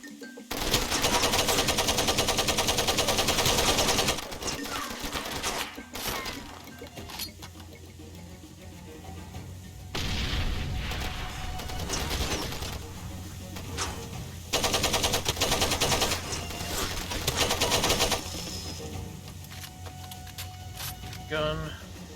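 Gunfire in the Far Cry 2 video game, loud bursts of rapid shots in clusters across the clip, with game sounds and a voice talking in between.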